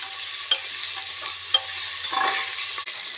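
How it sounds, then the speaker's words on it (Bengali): Bay leaf with ginger and garlic paste being stirred as it fries in a pan, a steady close sizzle with a few sharp spoon scrapes against the metal, no voices. "একটা তেজপাতা, আদা বাটা, রসুন বাটা, ভালো করে নাড়া করে"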